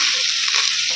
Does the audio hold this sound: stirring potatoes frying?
yes